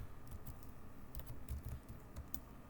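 Fingers type a command on a computer keyboard, a quiet, close, irregular patter of key clicks with no voices.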